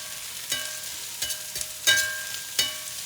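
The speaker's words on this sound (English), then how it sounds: "peppers saute a little bit." Peppers sautéing in a pan, a soft steady sizzle broken by four distinct scrapes and clinks of a utensil against the pan, near and moderate in level.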